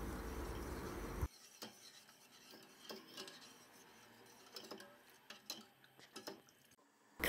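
A spoon stirring granulated sugar into hot water in a pan to dissolve it for a syrup, quiet rhythmic scraping and ticking strokes after a brief louder rush of pouring or running water at the start.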